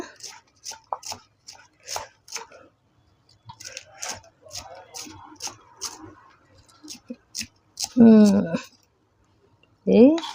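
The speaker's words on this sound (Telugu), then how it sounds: "ఇది మనం వీలైనంత సన్నగా తరుక్కుందాం" A kitchen knife slices vegetables as thinly as possible on a board for homemade egg noodles, giving a steady run of close, crisp taps. Brief voiced sounds break in near the end.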